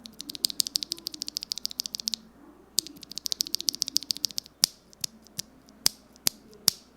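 Durock Palm switches, lubed with Krytox 205G0 and filmed, are pressed into a custom Radiance 65 keyboard, producing bursts of rapid, crisp clicks, then a pause, then another run of clicks, and finally a few separate, louder snaps, all close up with no voices.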